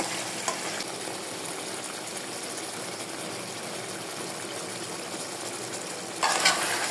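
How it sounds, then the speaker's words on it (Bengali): Beef cooks down in a pan with a splash of water, producing a continuous close hiss of sautéing. A brief clatter of stirring near the end briefly raises the loudness. "মাঝে মাঝে এসে নাড়াচাড়া দিতে হবে। আর একটু কষায় নিতে হবে।"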